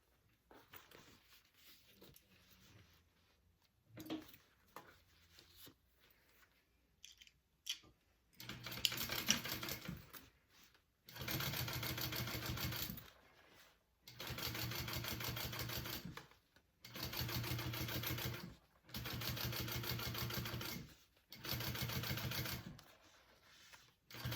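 A sewing machine top stitches a bag seam in several separate bursts of rapid, rattling stitching, each a couple of seconds long with short pauses between, after a quiet stretch of soft handling noises.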